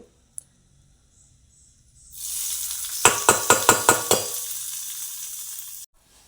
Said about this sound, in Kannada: ನಾನು ಈಗೊಂದು ಒಗ್ಗರಣೆ ಹಾಕ್ತೇನೆ